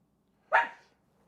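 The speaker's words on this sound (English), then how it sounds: "My dog is barking." A single short dog bark sounds indoors at moderate distance, sharp and clear against a quiet room with no talk.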